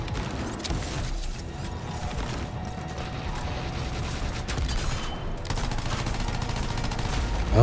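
Rockets fire at a player in the game Anthem amid a chaotic firefight, with rapid mechanical clatter and repeated bursts over a continuous, fairly loud battle din.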